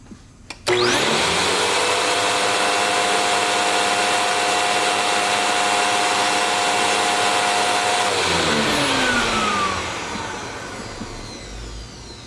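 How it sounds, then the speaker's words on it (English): A Prolux upright vacuum cleaner with a brush roll that isn't spinning switches on with a sharp start and runs loud and steady with a whining motor tone, then winds down as it powers off near the end. "So I'm going to turn the vacuum on."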